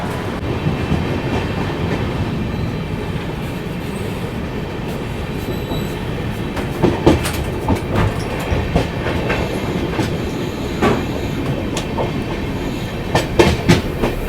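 Brahmaputra Mail passenger train running on rails, steady loud rumble with rhythmic clickety-clack of wheels over joints and occasional sharp clanks, continuous throughout with no voices.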